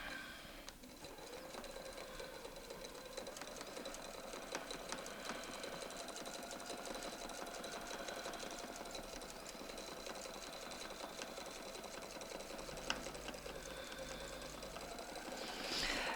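A domestic sewing machine stitches a quilt using a ruler foot, a quiet, rapid mechanical whirring with fine clicking that runs steadily, with a few brief pauses and knocks, and no voices.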